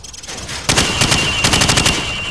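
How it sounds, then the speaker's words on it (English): A rifle fires from the hip on a shooting range in the Modern Warfare video game, a loud sustained automatic burst of rapid shots after a brief quiet moment. "Now, shoot at the targets while firing from the hip."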